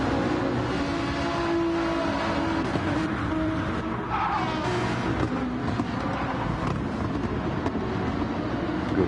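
Several race cars roar down the front straight at Suzuka together in Gran Turismo 7, engines droning and overlapping with a steady, dense whine.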